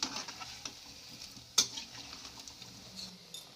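Thick dahi balle frying in a pan, with a soft continuous sizzle and occasional light utensil clicks, including one sharper tap, quiet and close with no talk.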